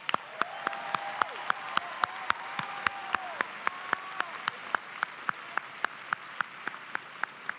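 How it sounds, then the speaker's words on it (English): Applause from the audience at a high school commencement ceremony, steady crowd clapping with a few sharp individual claps standing out and tonal whoops or whistles early on, continuing at an even level. "Let's give them all a round of applause."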